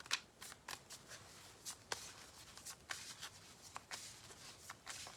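Tarot cards are shuffled and drawn for a live reading, steady soft riffling and flicking with sharper snaps throughout, close and quiet, with no talking.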